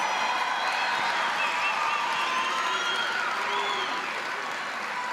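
Sustained audience applause fills a high school commencement ceremony, a steady wash of many hands clapping at moderate distance with no pauses.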